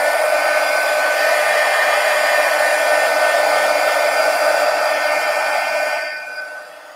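A hair dryer blows on black paint in an ink sketchbook journal, a loud, constant whirring hum close by that runs steadily and then winds down at the end.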